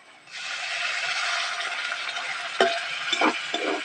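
A ginger, garlic, onion, tomato and green chilli paste hits frying onions in a pan for a dried cabbage curry, setting off a sudden steady sizzle, followed by a few sharp clinks and scrapes of stirring near the end.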